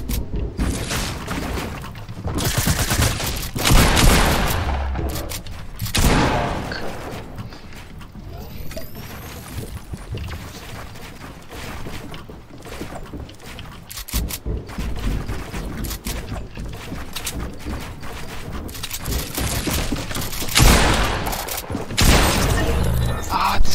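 Shotgun blasts ring out during a Fortnite 1v1 match, several loud booming shots spaced apart amid dense game noise, mechanical reload clicks and a voice talking over the action.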